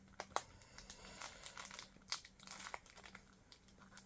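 Taped packaging around a 1994 3-inch Japanese CD single is worked open by hand, giving close, quiet bursts of crinkling and tearing in an irregular rhythm.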